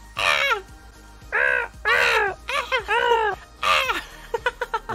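A human voice imitates a crow, giving a series of harsh, nasal caws in a loose rhythm, loud and close, ending in a quick run of short clipped squawks.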